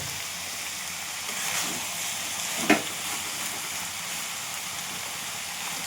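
Ridge gourd and fried potatoes sizzle steadily in a pan, a close continuous frying hiss, with one sharp clack of a utensil partway through.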